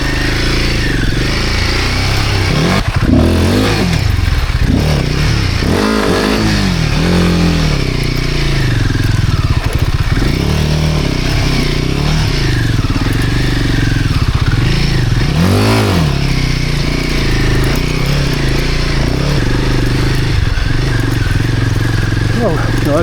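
Off-road motorcycle ridden hard on a rough dirt track in Spain, the engine roaring loud and continuous with rising and falling revs, rattles and clatter, and a rider's voice talking over it.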